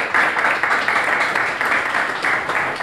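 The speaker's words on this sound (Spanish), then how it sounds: "queremos antes de hacer la presentación darle un fuerte aplauso a quien nos acompañó como disertante" Audience applause at a talk-series event honouring a guest lecturer, a steady dense patter of many hands clapping that holds at an even loudness throughout, with no voices over it.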